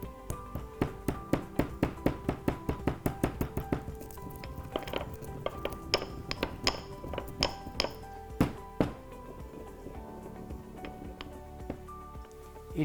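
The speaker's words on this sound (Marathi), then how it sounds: "काळी मिरीचे दाणे आणि थोडेसे क्रश करूया आणि घालूया" Black peppercorns are crushed with a run of quick, regular knocks and clinks, which then slow to scattered taps.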